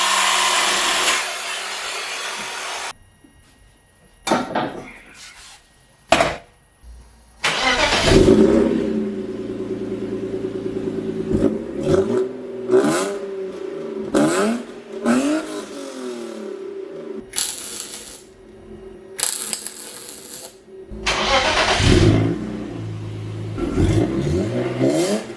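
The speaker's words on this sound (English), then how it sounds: "Okay, I think this sounds like I have no muffler." A BMW car engine runs with its muffler cut off, giving loud, close, raw revving bursts that climb and fall in pitch, broken by short pauses and quiet gaps.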